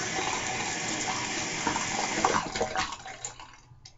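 Water runs from a tap for washing soap off a face, a steady close gushing that splashes and breaks up before stopping near the end.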